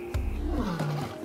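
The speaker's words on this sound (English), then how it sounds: "Lions have the longest larynxes or voice boxes and are capable of the loudest roars" A lion roaring, a short deep, throaty roar with a falling grunting tone, loud and close, heard alone without talk.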